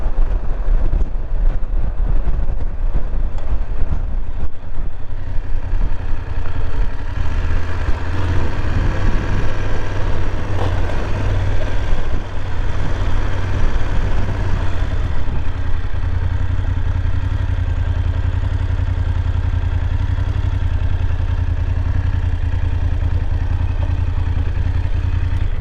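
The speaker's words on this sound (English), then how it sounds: "Man, the wind is crazy." Strong wind buffets a microphone at a graveyard, a loud, steady low roar of gusts that persists throughout with some clattering underneath.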